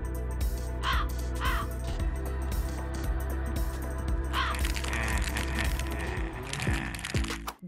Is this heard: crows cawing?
yes